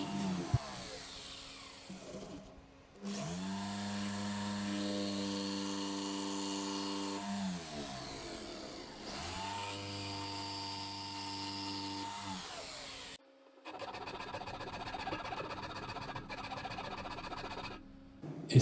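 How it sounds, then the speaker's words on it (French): A jigsaw cuts along traced lines on the wooden edges of cabinet corner brackets, its motor whining loud and close in two long sustained passes separated by short pauses, with a further burst of cutting near the end. "je vais ensuite couper à la scie sauteuse les bords suivant mon tracé"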